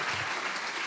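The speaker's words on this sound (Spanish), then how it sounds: "Habrá un aplauso fuerte por allí para el Señor." Steady, dense clapping from a church congregation during a sermon fills the short moment, loud and even throughout with no pauses.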